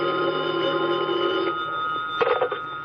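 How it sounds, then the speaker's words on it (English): A telephone bell rings continuously in a hotel lobby in an old radio drama, a bright metallic tone, fairly loud and close, its rhythm breaking up near the end. "the phone in the lobby started ringing"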